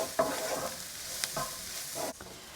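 Ginger and garlic sizzle in a hot pan for saag aloo while being stirred, a steady frying hiss broken by a few scraping strokes of the utensil, close and clear with no voices.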